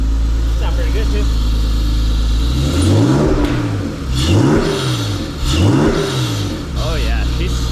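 A Honda NSX engine idles loudly and close by, then revs up several times in quick swelling bursts that fall back to idle. A voice speaks briefly over the engine.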